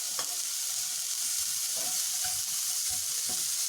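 Chopped capsicum hitting a hot pan for a stuffed mushroom gravy, a steady close hiss of frying with a few soft stirring taps, no talking.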